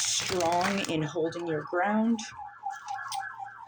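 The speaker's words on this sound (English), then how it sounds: "Apologies for the siren going past." A vehicle siren passes outside, a repeating wailing tone rising and falling in the background while someone speaks close up over it, then the siren continues alone as she pauses.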